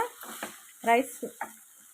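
Grated amla (Indian gooseberry) fries in a pan, heard as a few short, soft bursts of sizzling and spatula scraping separated by quiet gaps.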